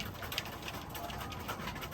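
Soft roller pigeon cooing in the background over a steady, noisy hiss, low and continuous for a couple of seconds.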